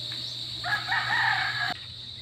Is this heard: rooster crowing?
yes